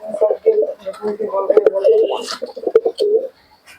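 Pigeons coo in low, repeated throaty phrases close by at a pigeon sale, mixed with someone talking over them.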